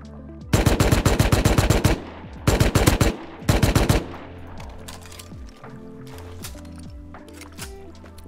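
Automatic gunfire in the survival game Rust, three loud rapid bursts in close succession followed by fainter scattered shots and game noise, with no talk.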